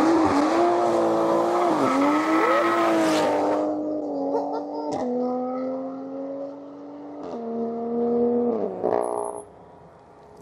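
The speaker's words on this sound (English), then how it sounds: "That was a proper acceleration." A car accelerates hard on the Nürburgring, its engine note climbing steadily through several gear changes with brief shifts in pitch, loud and close, with a short tire squeal and no talking.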